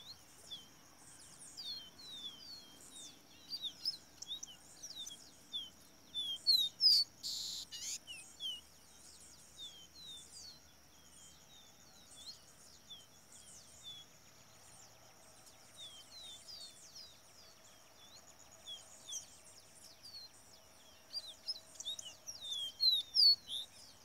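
A caboclinho (capuchino seedeater) sings in quick, repeated high chirping phrases through a quiet background, with a faint steady insect hum.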